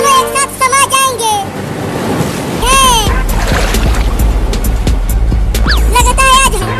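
Surging water and waves in a cartoon flood scene, a broad continuous wash with splashy swells and bursts of whooshing rising and falling, mixed with cartoon effects and a voice over the first half.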